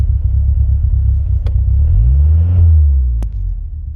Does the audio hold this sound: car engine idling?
yes